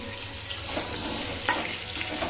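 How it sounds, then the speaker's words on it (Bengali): Eggs frying in a pan of oil with ginger, garlic, tomato and onion, a steady close hiss with a couple of brief louder spatters, no talk. "ডিম আমি তো এখন ভাজছি"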